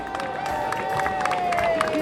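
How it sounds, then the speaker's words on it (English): A crowd of volunteers at a city Earth Day service event claps and cheers, a steady roar of applause with a sustained tone running through it. "Give yourselves a round of applause."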